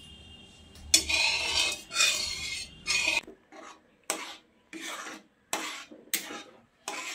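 Egg and milk mixture stirred in a kadai to make cream for dorayaki pancakes, a spoon rasping and scraping against the pan in a series of short strokes, at first louder and continuous, then in separated bursts.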